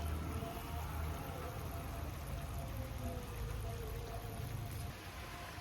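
Steady rain falling outdoors in a garden while cooking goes on, a continuous dense hiss with faint pattering throughout, with the background easing slightly near the end.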